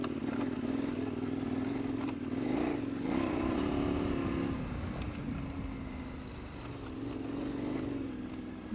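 A KTM 1090 Adventure R motorcycle ridden off-road over a steep, rocky section with a full fuel load; the engine drones steadily and close throughout, with clattering from the rough ground and shifts in revving.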